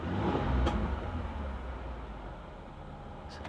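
A 66k-mile Oldsmobile Cutlass Supreme engine given a short rev, rising briefly then settling back to a steady idle hum, close and moderately quiet.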